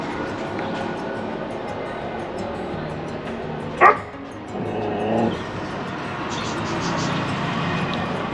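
A Pashmi hound barks once sharply near the microphone, followed by a softer whimpering yip, over steady outdoor background hum with passing traffic.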